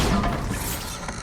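A Bombarda blasting spell explodes in Hogwarts Legacy, a loud, close crashing burst with a shattering edge that rumbles and decays over about a second.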